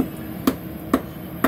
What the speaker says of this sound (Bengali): একটু এগুলোকে একটু থেতো করে নেব।